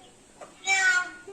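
A pet parrot imitates a cat, giving one clear, drawn-out meow close by after a soft quieter chirp, followed by silence.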